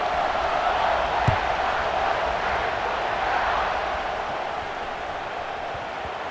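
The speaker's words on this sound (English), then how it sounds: "this crowd is buzzing after that last score" A stadium crowd in the College Football 26 video game buzzes as a dense, steady roar of many voices, distant and continuous, fading slightly toward the end.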